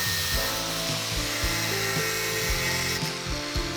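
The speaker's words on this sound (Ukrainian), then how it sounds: "Болгаркою відпилюємо по лініях." A high, whining angle grinder cuts through steel angle continuously, its pitch wavering slightly as it bites, loud and close with no talking.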